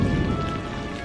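Steady rain pours outside during a downpour, a dense, even hiss with a low rumble that holds at a constant level throughout, with no voices over it.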